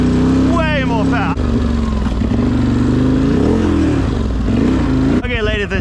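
A Can-Am Outlander 840 ATV, tuned with new clutches, revs on a wooded trail. Its engine drones loudly throughout, with sharp rising rev sweeps at the start and again near the end, and a voice briefly under the engine.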